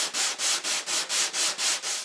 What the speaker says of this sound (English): for such a small amount like this, I prefer to use a sanding block